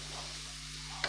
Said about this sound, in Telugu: ఆనియన్స్ అయితే బాగా రెడ్డిష్ షేడ్లో వేగించుకుంటున్నానండి.